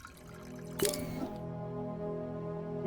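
Liquid poured from a press in Avowed runs in a steady, thin trickle with a brief splashing onset, followed by a resonant hum that continues to the end.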